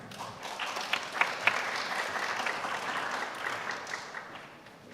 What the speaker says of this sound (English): Let's welcome them with a big hand